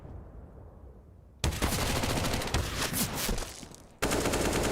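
Rapid gunfire from a Counter-Strike match fills the clip in loud, dense bursts, rattling almost continuously after a quiet start, with a short cut-off near the end.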